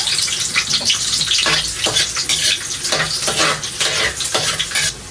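Garlic sautés in hot cooking oil for ginisang sayote with ground meat, giving a steady, close, crackling sizzle with bursts of stirring throughout and no talking.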